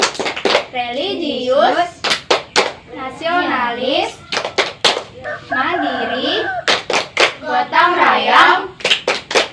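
A classroom group performs the tepuk PPK clapping chant: loud, sharp patterned claps in quick sets, with chanted spoken words between them.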